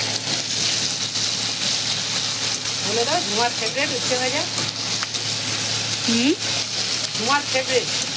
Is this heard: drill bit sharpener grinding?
no